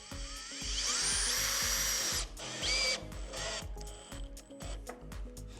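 A power screwdriver drives Torx screws into standing seam roof sheet metal by the verge flashing: motor whines rise in pitch over repeated bursts, with metallic rattling between screws, loud and close.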